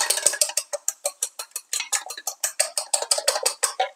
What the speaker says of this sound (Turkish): yarım çay kaşığına yakın, öyle daha doğrusu kaşığın ucuyla karabiber koyuyorum ve yumurtalarımı güzelce çırpıyorum